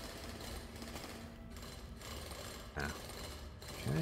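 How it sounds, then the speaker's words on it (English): Game drill in Drill Core on an ice planet grinding out small chunks, a steady rattling mechanical whir with a couple of short bursts near the end, nobody speaking. "Drill all these little bits out."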